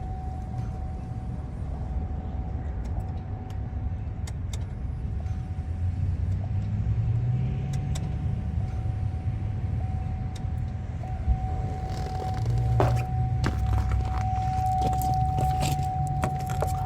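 A car engine rumbles after a fuel filter and fuel pump swap, then idles steadily with a faint whine, punctuated by light clicks and jangles of keys nearby.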